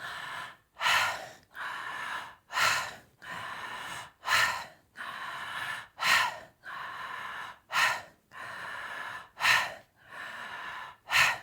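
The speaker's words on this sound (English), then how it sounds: "We're going to be doing the conscious connected breathing where we are breathing in and out through the mouth." Conscious connected breathing in and out through the mouth during a guided breathwork session, about a dozen strong rhythmic breath cycles with sharp gasping inhales and airy exhales, close and loud with no talking.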